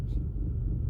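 Old BMW 320i E46 engine idling, a low steady rumble close by, with nobody speaking.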